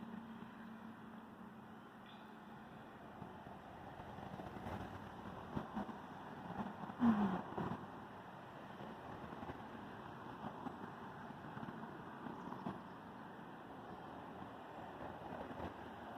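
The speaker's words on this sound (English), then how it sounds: "The swishing of cars" Steady swishing of cars passing along a street, a continuous broadband wash with a slight swell partway through, heard at moderate distance alongside a faint buzzing outdoor background.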